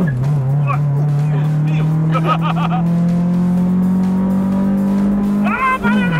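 A Honda Civic Si engine revs and misfires, holding a loud, steady, slightly rough drone that climbs gradually before dropping off near the end, with people talking over it.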